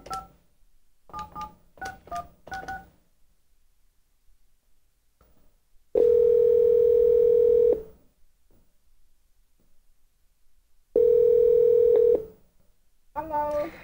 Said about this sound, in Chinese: 那我现在就拨电话给他